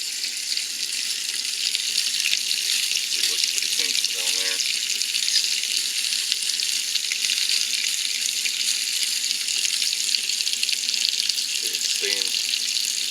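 Water runs steadily from RV faucets while the rig is being winterized, a constant hiss of flowing water throughout, with brief faint voices murmuring underneath.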